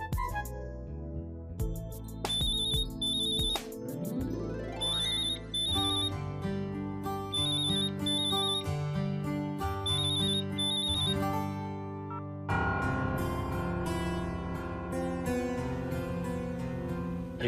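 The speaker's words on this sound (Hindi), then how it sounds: "प्रीतो फोन क्यों नहीं उठा रही है?" A phone rings in repeated paired bursts of bright electronic tones, sounding over steady background music and going on for several cycles without stopping.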